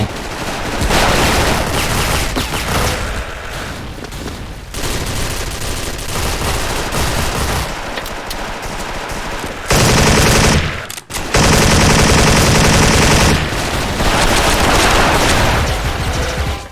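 Loud, sustained automatic bursts from a G3A3 rifle in the online shooter SF (Special Force), rapid crackling fire that rattles on almost without pause and drops out briefly near the end.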